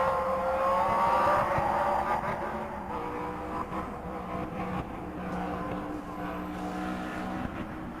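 A BRM V16 Mk2 race car engine screams at high revs, its pitch sweeping and warbling as it passes, then fades to a lower, distant drone.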